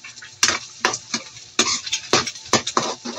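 Eggs with bitter gourd are stirred in a pan. A utensil scrapes and clinks in irregular bursts, roughly ten strokes, close up over a faint sizzle, with no talking.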